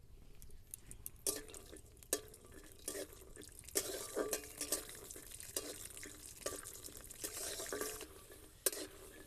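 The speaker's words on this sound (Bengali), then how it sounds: "বাদামগুলো ভাজা ভাজা হয়ে গেছে" Peanuts fry in white oil in a wok, with a soft sizzle under repeated scraping and clattering stirs spread unevenly across the stretch. The sound is close and fairly quiet, with no talking.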